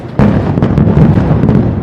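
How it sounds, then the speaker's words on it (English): Israeli airstrikes on Gaza seen from just outside the territory, a loud, continuous roll of booming blasts and rumbling bursts with no speech over it. "From just outside Gaza, we could see the massive explosions from Israeli airstrikes."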